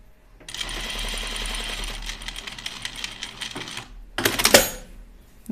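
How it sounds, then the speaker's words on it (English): A sewing machine stay stitches the neckline of an Upton dress, a fast steady mechanical whir for several seconds, then stopping, followed by a short clattering burst near the end. "So that's just the stay stitch for the neck"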